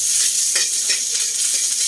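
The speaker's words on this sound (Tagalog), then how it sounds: "Luto tayo ngayon sa sarsyado." Sarsyado cooking in a pan gives a loud, continuous hiss of frying oil, close and steady, with faint stirring scrapes and no talking.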